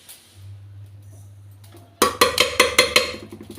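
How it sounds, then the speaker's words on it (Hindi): Jakhya seeds dry-roasting in a kadhai without oil: after a quiet low hum, a sudden run of sharp crackling pops and rattles repeats in quick bursts, close and fairly loud. "तो बिना तेल के मैं थोड़ा सा जख्या को भून लेती हूँ।"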